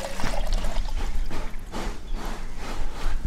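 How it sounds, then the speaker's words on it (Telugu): Water poured from a vessel into a cooking pot holding dry ginger powder for a ginger-water kashayam, a steady splashing trickle with uneven surges, moderately close and without speech. "ఈ సొంటి పాత్రలో వేసుకున్నాం కదమ్మా, 2 లీటర్లు నీళ్లు పోసుకొని మనం మరగబెట్టుకుందాం"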